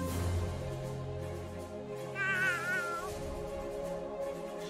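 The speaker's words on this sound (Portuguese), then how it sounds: "Ué, tem um gato ali, mano." A cat meows with a wavering, drawn-out cry in the South Park video game, heard clearly over steady game music and ambience.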